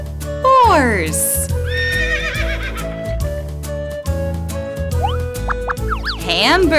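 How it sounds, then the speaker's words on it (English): A horse whinnies loudly over a steady musical backing, its call rising and falling briefly near the start and again toward the end. "Horse."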